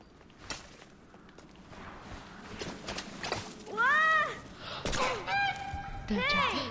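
A swan in The Unfinished Swan video game gives several loud, nasal honks in quick bursts, with footsteps and a faint outdoor garden ambience underneath and a brief voice in the background.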